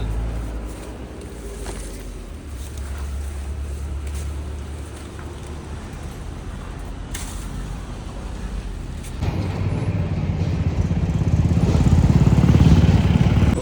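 Motor traffic passes along a rural road, a steady low rumble of engines going by that swells louder toward the end, with no talk.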